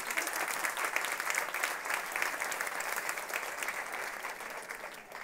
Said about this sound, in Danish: Ja, det må du gerne klappe til.